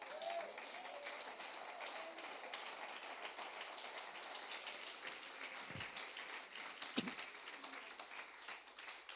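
A church congregation applauds during a Spanish-language sermon, a dense, steady wash of clapping that holds for about nine seconds at a moderate distance, with no voices over it.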